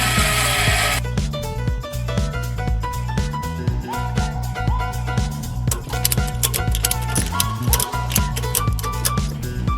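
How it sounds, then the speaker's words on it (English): Power tools drilling and cutting into a Nissan Titan XD truck frame during a 6-inch lift install in a driveway, giving a dense run of rapid ticking, grinding strikes over a steady mechanical hum, with no talk. "After the differential, it was time to do some drilling and cutting"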